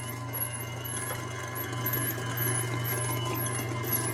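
A Cabela's Pro DC half-horsepower electric meat grinder works through cubed meat on a coarse grind, producing a steady motor hum with a continuous mechanical whir and faint rhythmic chirps.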